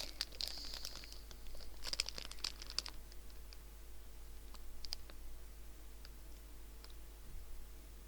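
A snack package wrapper for halal sweets is folded back, giving faint intermittent crinkles and small crisp clicks in a quiet room, with a low steady hum underneath.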